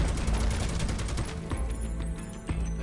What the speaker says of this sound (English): We go ahead and start shooting it